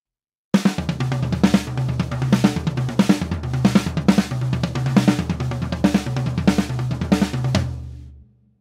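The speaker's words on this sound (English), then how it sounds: "Today we're going to combine single strokes and double strokes." Drums played in a pattern that mixes single and double strokes: a rapid, even run of close hits across pitched drums for about eight seconds, ending with a ringing decay, no voices.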